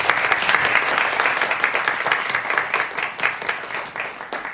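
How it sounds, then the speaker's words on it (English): Audience applause at a cast and crew Q&A event, dense steady clapping from a crowd filling the whole moment with no talk over it. "So first of all, clap it for that."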